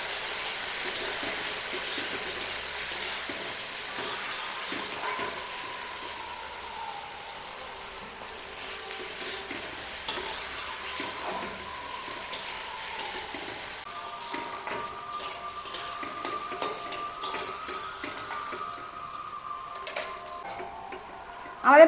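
Whole dried red chillies frying in a pan for a chicken curry, with a soft continuous sizzle and repeated scraping, clinking spatula strokes as they are stirred close by.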